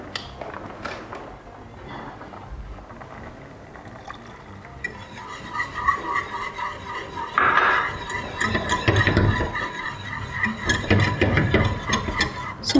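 White sauce with milk for pasta being whisked in a pan, rapid metallic scraping and clinking of a whisk against the pan, quiet at first and growing busier and louder in the second half.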